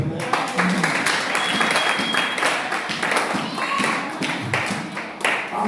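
A church congregation applauds to acclaim God, producing a steady, dense wash of clapping hands with crowd noise and voices mixed in throughout.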